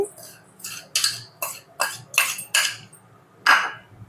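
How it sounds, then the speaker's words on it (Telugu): Spoon scrapes and clinks against a bowl as amla (Indian gooseberry) pickle pieces are mixed with chilli powder and ground spices, a rhythmic series of about eight close strokes, no talking. "ముక్కలకి మొత్తం కలిసేటట్టు బాగా మిక్స్ చేసుకోవాలి"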